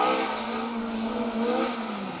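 A race car in a championship event passes with a steady, loud engine drone whose pitch slowly drifts lower, sustained without pause and free of talking.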